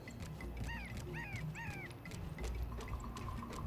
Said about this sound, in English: these birds, they be making bird noises